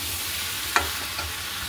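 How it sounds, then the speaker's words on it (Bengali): Pointed gourd and potato with shrimp sauté in a pan, a steady close sizzle with a couple of sharp scraping stirs. "কষানো চলছে পটল চিংড়ি মাছে, মানে পটল আলু দিয়ে চিংড়ি মাছে।"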